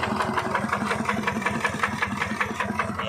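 A BF 105 RM diesel engine on a tractor runs at a steady idle, with an even, rhythmic low chugging throughout at moderate, close volume.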